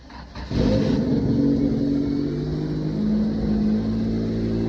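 A Honda CRX engine cranks briefly, then catches and settles into a loud, steady idle with a slight rev, close by and with no talking.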